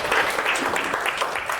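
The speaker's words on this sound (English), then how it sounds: "Can you give her a big round of applause?" An audience breaks into a dense, steady round of applause at a mind-cleansing talk, with many hands clapping together at close range and holding an even loudness throughout.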